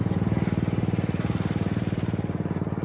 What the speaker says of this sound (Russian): Что это там за мотор? Едет кто-то на мотоплуге.